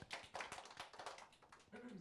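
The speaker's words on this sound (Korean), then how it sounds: "박수 한번 칠까요?" An audience claps together in a steady burst of overlapping hand claps that continue throughout, with a short voice-like tone near the end.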